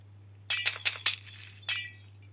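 Glass breaking in a fake Minecraft knockoff game: five sharp, bright shattering bursts in quick succession, fairly loud over a steady low hum, with no talk.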